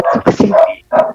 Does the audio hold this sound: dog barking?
yes